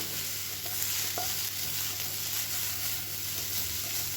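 Egg fried rice being stirred and tossed in a hot pan, giving a steady close sizzle with scraping and stirring textures throughout.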